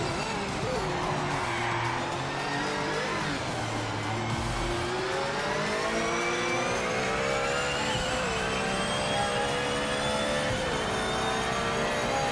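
A Cadillac race car engine from the racing video game Project Motor Racing drones loudly and steadily, its pitch climbing in repeated smooth sweeps as it revs through the gears without a break.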